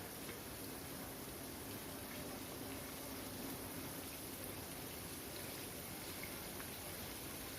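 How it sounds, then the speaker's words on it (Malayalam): Prawns sizzle in a pan over a high flame for barbecue prawns: a soft, continuous crackling hiss like steady rain, fairly quiet and unbroken, with no talk. "ഹൈ ഫ്ലെയിമിൽ വെച്ച് വേണം ഫ്രൈ ചെയ്തെടുക്കാൻ."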